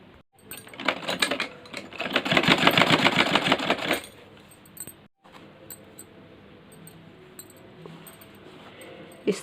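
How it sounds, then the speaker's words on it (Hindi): A sewing machine runs in a fast, dense burst of stitching through old denim jeans, loud for about four seconds before stopping, followed by quieter handling noises. "यहाँ पर सिलाई लगानी है"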